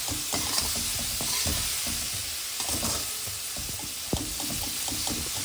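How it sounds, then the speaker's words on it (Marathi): Chopped snake gourd with fresh coriander sautéing in plenty of oil, a steady sizzle broken by spatula scrapes and stirring clatter, close and continuous. "आणि आता थोडी कोथिंबीर टाकतो आहोत आपण त्याच्यात त्यामुळे सुंदर असा कोथिंबीरचा वास लागतो आता आपण परतून घेणार आहोत"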